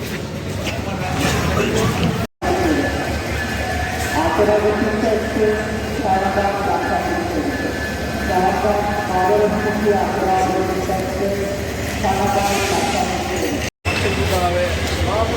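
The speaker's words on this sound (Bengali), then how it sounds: "বুন্দাই রোটেম তিন হাজার সিরিজের একটি ইঞ্জিন নিয়ে একটা ট্রেন ঢুকলো" A train pulled by a Hyundai Rotem 3000 series locomotive rolls into a station platform, a steady loud rumble with tonal engine drone, while a person talks over it nearly the whole time.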